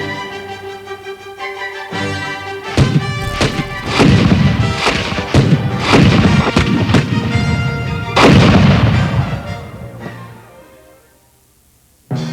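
Cannon fire from a siege of Yorktown reenactment, a rapid series of heavy booming blasts echoing over sustained orchestral music, loud and close before tapering to quiet.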